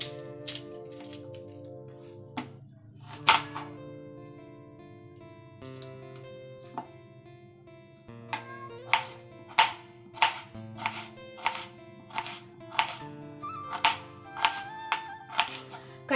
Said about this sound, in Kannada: ಈರುಳ್ಳಿ ಕಟ್ ಮಾಡ್ತಾ ಇದ್ದೀನಿ ಇವಾಗ, ಸಣ್ಣದಾಗಿ ಉದ್ದುದ್ದ ಕಟ್ ಮಾಡ್ಕೊಳ್ತಾ ಇದ್ದೀನಿ